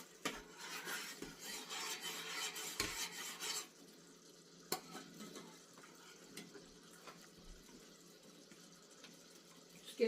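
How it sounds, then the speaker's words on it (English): A spoon scrapes and stirs a no-bake chocolate maple cookie mixture in a pan, with a few seconds of louder rubbing that gives way to faint, sparse scraping. "You have to stir it because you don't want, you know, it to stick and burn on the bottom of the pan."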